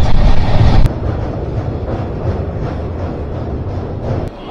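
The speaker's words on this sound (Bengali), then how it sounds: "আমাদের ট্রেন কিন্তু খুব জোরে চলছে" The Tamralipta Express, running from Kolkata to Digha at close to 110 km/h, gives a loud, steady rumble with wind rush, heard from on board, with a brief heavier burst at the start.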